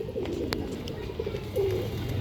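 Pigeons cooing softly at a loft, a few low murmuring coos over a quiet background with faint clicks.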